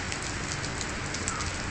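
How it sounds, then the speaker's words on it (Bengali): Light rain falling outdoors after a heavy night of rain, a steady, even patter of drops on surfaces with a continuous wash of hiss, moderately close and unbroken by voices. "দেখুন এখনো বৃষ্টি পড়ছে।"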